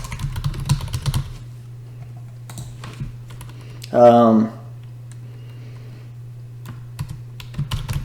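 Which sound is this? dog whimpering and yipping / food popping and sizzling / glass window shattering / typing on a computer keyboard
typing on a computer keyboard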